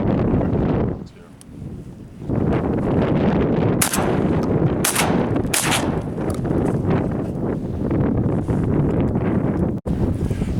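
Smith & Wesson 1000 12 gauge shotgun firing #7 shot at apple targets outdoors: several sharp blasts spaced a second or so apart, with a last one near the end, over heavy wind rumble on the microphone.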